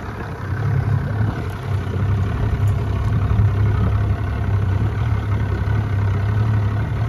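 A Boston Whaler boat's outboard motor idling during launch from a floating dock, a loud, steady low rumble that holds evenly close by throughout.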